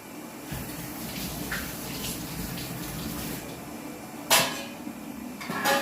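Poha and moong dal being washed in water in a home kitchen for dhokla, with soft splashing and swishing over a faint background, ending in a couple of sharper sloshing bursts.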